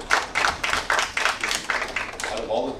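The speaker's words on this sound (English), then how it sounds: "I didn't think that would be the one with the applause on it" An audience at a conference talk applauds, a quick run of distinct, evenly spaced claps that stays fairly loud and close through the whole stretch.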